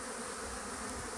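A honeybee swarm buzzes at a hive in a beekeeper's apiary in August: a dense, steady drone of many wings, close and continuous, with no talk.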